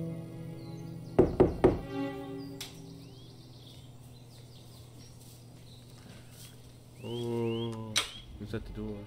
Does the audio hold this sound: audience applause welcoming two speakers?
no